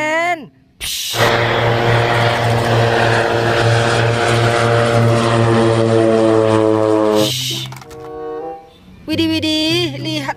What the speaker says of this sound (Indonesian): Kita menemukan pesawat dengan dua baling-baling.